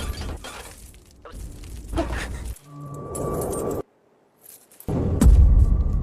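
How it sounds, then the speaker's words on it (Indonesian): A glass door shatters after an iron ball strikes it in a Korean action film scene, with a loud crash and breaking burst, a short silence, then another heavy smash of glass and debris. "bola besi itu mengenai pintu kaca"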